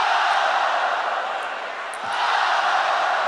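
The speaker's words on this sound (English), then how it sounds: "The crowd loves it." A large arena crowd cheers and roars continuously at the 2012 Women's World Cup table tennis final, the noise swelling loudly, dipping briefly, then rising again with scattered shouts.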